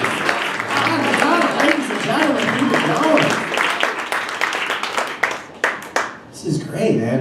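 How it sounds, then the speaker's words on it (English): A comedy club audience bursts into loud, dense applause and clapping for a comedian coming on stage, the sound thinning into scattered claps toward the end while a voice talks over it. "give a big round of applause"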